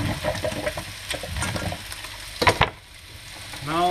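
Fish fries in a hot pan for Asian rice noodles, a steady close sizzle with a few sharper clatters of stirring near the middle before the frying settles down.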